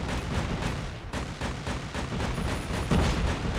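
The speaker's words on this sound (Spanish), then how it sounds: "¿Alguien me está disparando?" Continuous gunfire in the mobile shooter game Call of Duty Mobile, a dense rapid stream of shots with booming low thuds, loud and close throughout with no pauses.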